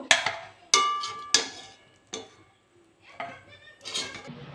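Pieces of fried flour goja lifted out of a frying pan with a metal utensil, a run of sharp clinks and scrapes against the pan at uneven intervals, close and fairly quiet, with no talking.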